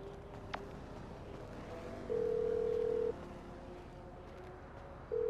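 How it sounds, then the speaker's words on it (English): A mobile phone ringtone sounds in the GTA V video game, a steady electronic tone in one sustained burst of about a second, then returning briefly at the end over low in-game ambience. "who changed my ringtone?"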